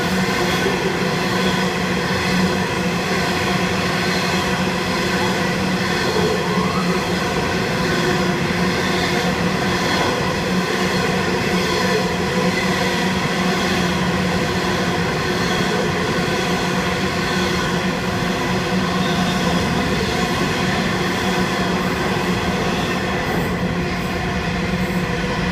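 CEY class locomotives and sister train sets pass at Cheltenham in a steady, loud rolling roar that fills the whole stretch. Wheels rumble continuously, with no voices.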